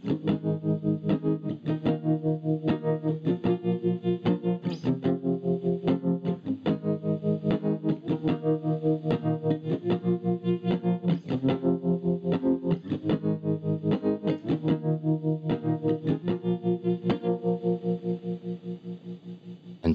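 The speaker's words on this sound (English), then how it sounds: "The next clip is going to show what this effect sounds like without any distortion layered on top of it." Tremolo effect from DSP running on an Arduino GIGA R1, with 99% depth and a 5 Hz LFO and no distortion, chopping a sustained instrument tone into a fast, even pulsing throb that fades slightly at the end.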